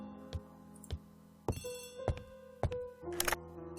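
A telephone rings in the Agatha Christie: The ABC Murders video game, a few sharp bell-like strikes spaced apart and then a faster cluster near the end, quiet and with no speech.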